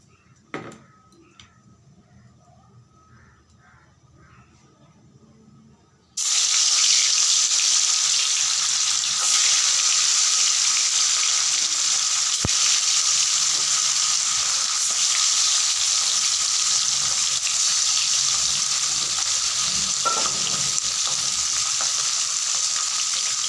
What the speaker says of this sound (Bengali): মাছগুলোকে বেশ লাল লাল করে ভাজতে হবে